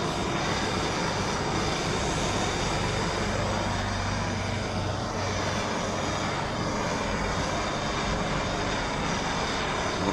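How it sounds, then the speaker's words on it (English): A gas blowtorch burns across a scaffold board tabletop, a steady loud roaring hiss that runs unbroken throughout with no pauses. "Bit of the old blowtorch burning."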